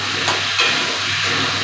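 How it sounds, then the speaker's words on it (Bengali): Potato pieces sizzle and fry with salt in a pan for a ticket dish of ridge gourd, potato and paneer, a close, steady crackling hiss with a faint stir or two and no speech. "লবণ দিয়ে এটা একটু আলুটা কষিয়ে নেব"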